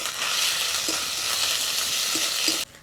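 Ginger, cumin and green chilli spice paste frying in a pan: a dense, close, continuous sizzle with a few soft spatula scrapes, running steadily until it cuts off abruptly near the end.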